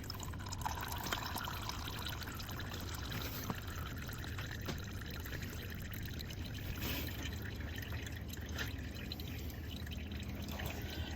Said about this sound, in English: The oil is pretty much finished coming out of where the oil filter goes.